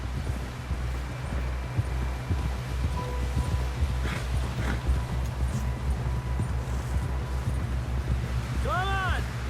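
A horse's hooves clip-clop in a steady, quick rhythm over a road in Red Dead Redemption 2, heard close under a constant windy background, with a brief tonal call near the end.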